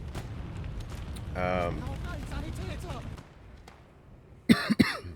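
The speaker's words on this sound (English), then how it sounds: "I've had a deadly cough for like multiple weeks." Sharp, close coughing fits break through after a stretch of ongoing talk and Gates of Hell: Ostfront game noise, loud and abrupt near the end.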